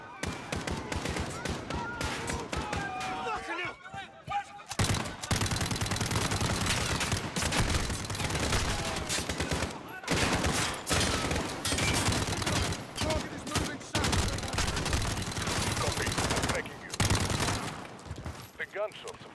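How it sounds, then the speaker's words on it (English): Dense gunfire in the video game Call of Duty: Modern Warfare, with sustained bursts of automatic fire and loud shots that keep rattling for nearly the whole stretch, broken by brief gaps. "gunshots, of course"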